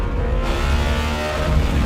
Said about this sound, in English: the emotion and power delivery and sound of a naturally aspirated 16-cylinder engine